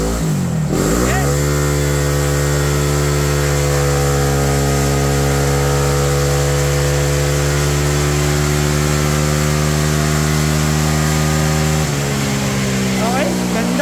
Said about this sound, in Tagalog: Ito, Honda Click 125.